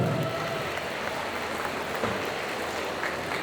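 Audience at a solo cosplay contest during a geek convention applauds a departing contestant, a steady, even roar of clapping heard throughout at moderate loudness.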